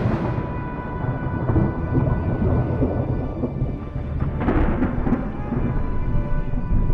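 A thunderstorm with steady heavy rain and low rolling thunder rumbling throughout, a louder swell of thunder near the middle, loud and continuous with no talking.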